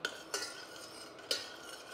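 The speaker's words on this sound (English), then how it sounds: "Just get a spoon. Okay, and stir it until it dissolves." A metal spoon clinks against a bowl while stirring tamarind (asam) water to dissolve it, with two or three sharp taps over a soft, continuous swirl, close and fairly quiet.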